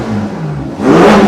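A 2019 Ferrari Portofino V8 with sports exhaust, warmed up and in neutral, idles with a low burble and then revs sharply, the engine note rising loud and close.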